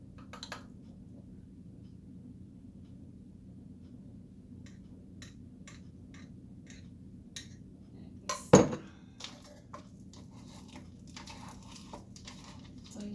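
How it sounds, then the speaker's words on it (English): A spatula folding crab cake mixture and sauce in a small bowl, soft scattered taps and clinks against the bowl over a low steady hum, with one sharper knock partway through. "take my spatula and I am going to fold it in"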